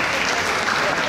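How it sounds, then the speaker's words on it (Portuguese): A brief, dense burst of audience applause at a Holstein Friesian cattle show in the Azores, honoring a placed cow and its owner; continuous clapping throughout the short moment. "uma grande salva de palmas"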